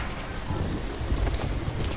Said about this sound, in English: That rain just won't let up